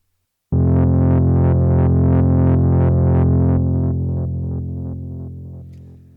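A warm, buzzy bass tone from a Moog Grandmother analog synth enters abruptly, pulsing in steady rhythmic swells as its brightness shifts with cutoff modulation from a Subharmonicon sequencer, then gradually fades.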